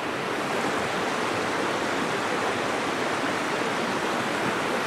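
A river waterfall gives a steady, dense rush of falling water, constant and moderately loud throughout with no voices.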